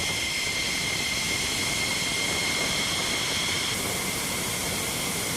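A fighter jet roars overhead in a steady, loud, droning engine rumble with a high whine, continuous throughout and without voices.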